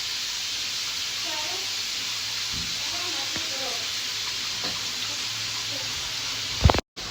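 Onions sizzle steadily in a hot pan, a close, even frying hiss that holds for several seconds with a few faint clinks, ending in a brief knock before cutting out.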